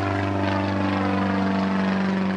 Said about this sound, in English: A plane in the sky.